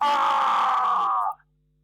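A drawn-out, loud male scream of an executioner, voiced as a comic audio drama effect, holds steady and then cuts off abruptly into silence.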